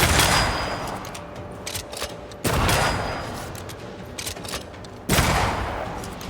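Repeated bursts of gunfire from a gun in the video game Banishers, three loud volleys with sharp onsets that trail off between them, with no talk over them.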